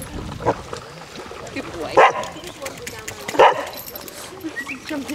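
Basset hounds out on a group walk at Otterton in South Devon give several loud, deep barks spaced a second or so apart, with people chatting and outdoor noise around them.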